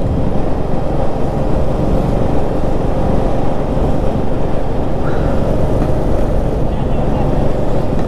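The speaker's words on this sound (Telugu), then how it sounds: "ఇప్పుడు నేను MT-15 నడుపుతున్నా" Pure black Yamaha MT-15 motorcycle ridden at night, a steady loud engine and wind roar filling the whole stretch without letup, with a voice speaking over it.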